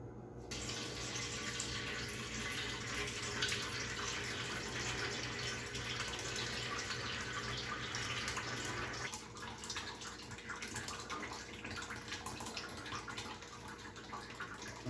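Homemade wine poured from one container into another, a steady continuous splashing trickle of liquid lasting throughout, close and alone with no talk.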